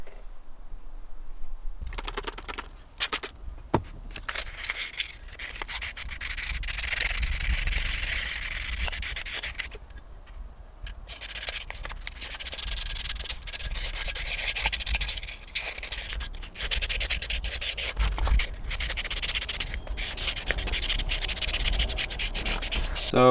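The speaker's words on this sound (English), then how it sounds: "going to be wet sanding it with a really high grit sandpaper" Wet sanding the interior of an M62 supercharger with very high grit sandpaper, a steady close rubbing and scraping that continues almost unbroken, with short pauses and strokes of changing intensity.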